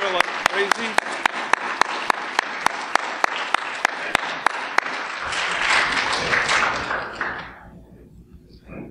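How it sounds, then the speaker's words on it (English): Women in a church congregation cheer and applaud standing fathers; sharp regular rhythmic claps lead into a swelling wash of clapping and cheering that fades away over several seconds. "And now the ladies will cheer like crazy."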